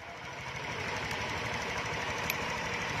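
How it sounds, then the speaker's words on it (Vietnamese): A fuel-injected Honda SH scooter engine runs steadily at idle with a continuous low mechanical chatter throughout, loud and close, with no voices. "nổ máy luôn rồi"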